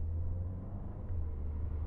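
A 2022 Mercedes CLA drives along with a steady low engine and road rumble, and no clear shift knock stands out. The drone is continuous and fairly quiet, with no voices.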